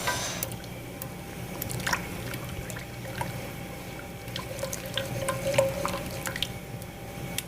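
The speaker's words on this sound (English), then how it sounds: "I'm just breaking up the flour butter to mix it in with the milk" Flour-butter roux being broken up into milk in a pot for baked mac and cheese, giving soft wet squishing and stirring with small clicks of a utensil, steady and close, no voices.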